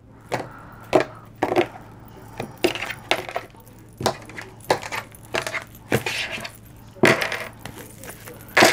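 Tarot cards being cut and shuffled on a table, producing a series of sharp, close taps and slaps at an uneven rhythm, with no talk.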